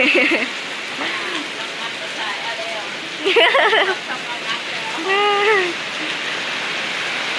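Steady rain patters on a surface as a constant wash of noise, while voices talk over it throughout.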